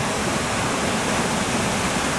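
The Düden waterfall near Antalya pouring off the cliffs into the sea, a dense, steady roar of falling water that fills the whole scene without a break.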